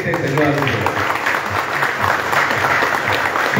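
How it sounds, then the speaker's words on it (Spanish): Audience at a motocross press conference applauds, a full, steady roar of many people clapping across the whole stretch, with voices mingling in the crowd. "voy a pedir a todos ustedes los aplausos de todos los presentes, señoras y señores"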